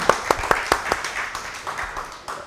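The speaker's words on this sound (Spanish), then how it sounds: "denle un aplauso a ella" A few people clap briefly for a cook on a live cooking show, several distinct claps at the start, then fading scattered claps.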